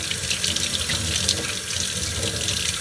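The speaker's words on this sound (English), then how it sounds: "Make sure your thyme well washed and clean" Running tap water splashes steadily into a sink as fresh thyme is rinsed, a continuous close hiss and patter throughout with no speech.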